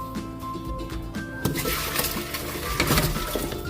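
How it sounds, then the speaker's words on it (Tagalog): Boiled pork leg is scraped and poured from one pot into another, with metallic clanks, a rising wet rushing sound and clattering of cookware. "Salin na natin sa ibang kaldero."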